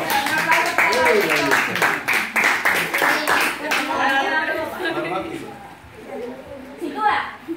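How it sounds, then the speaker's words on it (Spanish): Guests at a birthday party clap in a lively round of applause, loud and close, mixed with chatter and voices, tapering toward the end. "Un aplauso."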